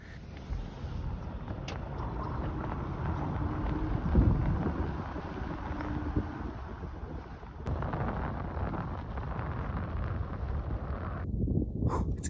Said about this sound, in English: The wind is picking up and my fingers are freezing.